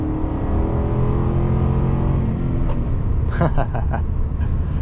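A 2014 Ford F150 with a 6-speed transmission and 3.55 rear gears revs up to about 5,700 rpm, its loud engine drone rising steadily and close, and a brief voice comes in near the end.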